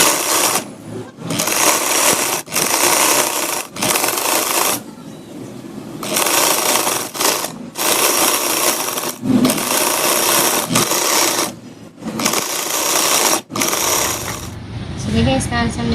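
Sewing machine stitching the seam of a peplum frock in loud, rapid bursts separated by short pauses, close up.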